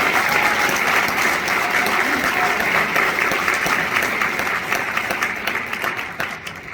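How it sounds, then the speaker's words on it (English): Sustained applause from an audience of town residents honoring elected officials at a Brigantine event on offshore wind farms, dense and steady throughout, easing slightly toward the end. "let's give a nice round of applause for all the elected officials who joined us here today"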